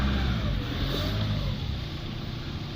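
A Nissan Navara D40 with the YD25 2.5-litre turbo diesel and 188,222 on the odometer runs steadily nearby, a low, even rumble with a faint whine and no change in pace.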